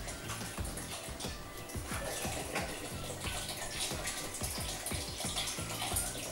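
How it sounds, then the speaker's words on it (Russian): Juice poured into a pot for strawberry e-liquid syrup, a steady splashing gush of liquid that runs continuously, close and moderately quiet, with no talking. "Заливаем сок."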